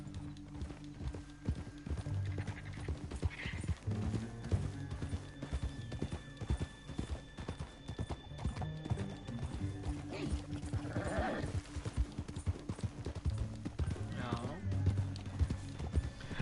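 Horse hooves clip-clop in a steady rhythm in a PS4 western video game, with a horse whinnying briefly and game music playing underneath.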